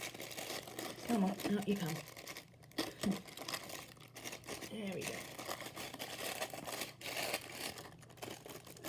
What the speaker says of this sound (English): if you like the sound of tissue paper, you've got a bit of a treat here